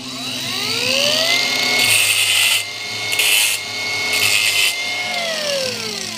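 A grinder bites into the metal body of a hot water zone mixing valve for a spark test, its high whine shifting pitch as the load changes, with three loud bursts of harsh grinding noise close up and no talking.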